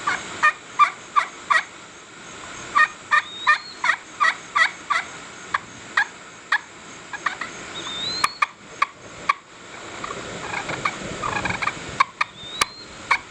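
Kenney's Baby Bigmouth all-wood turkey call, a chalked friction call, worked by hand alone: a run of sharp, evenly spaced yelps and clucks, then a brief pause and rougher, raspier purring strokes near the end, close and clear.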